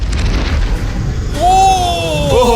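A catapult fires with a deep boom and rumble of a heavy launch, followed by a rising whistling whine, loud and close.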